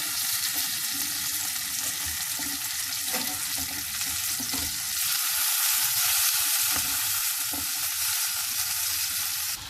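Rock fish pieces frying in a pan of hot oil, a loud close continuous sizzle with occasional clicks and scrapes as pieces are turned over.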